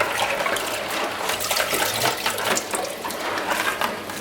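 Crayfish are rinsed in a colander as water runs steadily from a tap into a sink, a close, continuous splashing rush with no talk.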